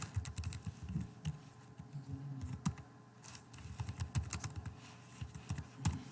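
Typing C code on a computer keyboard, with steady rapid key clicks and occasional heavier strikes continuing throughout at close range, with no talking.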